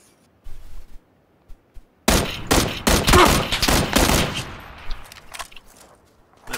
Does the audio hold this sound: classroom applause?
no